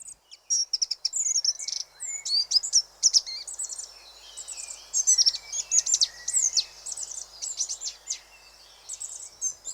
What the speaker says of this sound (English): Many of you will be fortunate to be able to hear a goldcrest.